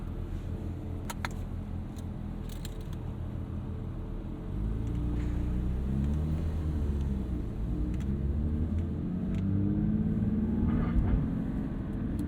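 A manual Porsche 992 911 GT3 pulls away on the road, a low engine rumble from inside the cabin that grows louder and rises in pitch through gear changes, with scattered small clicks and knocks.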